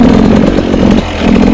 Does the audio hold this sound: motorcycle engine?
yes